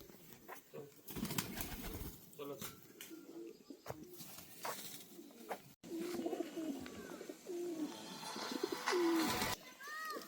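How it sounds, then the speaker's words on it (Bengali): Pigeons coo repeatedly at a home loft, their low rounded calls close and steady with a brief flutter of wings, while a person's voice is heard faintly in the background. "তো এই যে দাদার বাড়িতে পায়রাগুলো দেখুন।"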